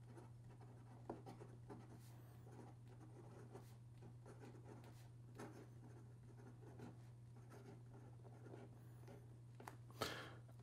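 A Nakaya Decapod Twist fountain pen with a stiff nib scratches steadily across paper while writing a sample, a faint close-up rustle of strokes with occasional louder taps over a low steady hum.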